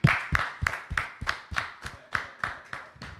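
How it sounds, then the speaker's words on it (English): Steady, evenly spaced claps, about ten in a row, come in a tight rhythm from a small group near the mic after an audience is urged to applaud a police officer at a talk. "Give him a round of applause, yo"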